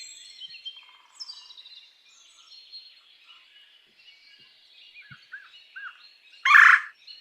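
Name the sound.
bird call, likely red-bellied woodpecker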